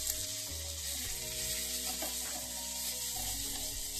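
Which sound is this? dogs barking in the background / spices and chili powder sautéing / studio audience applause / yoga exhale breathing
spices and chili powder sautéing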